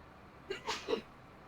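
A single short sneeze bursts out in a quiet room during a construction simulation game session, brief and moderately close, with no talking around it.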